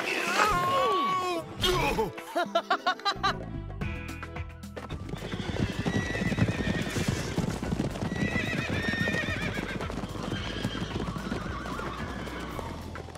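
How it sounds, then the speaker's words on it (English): A horse whinnies loudly, then hooves clip-clop at a steady pace, joined by background noise and faint voices. "Your name is Demon, but you're really a nice horse"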